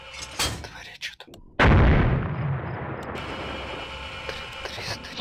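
Loud gunfire and a large explosion in the military video game ArmA 2: Operation Arrowhead, with scattered shots, then a sudden heavy blast that rumbles and decays into a long roaring tail as a voice speaks at times.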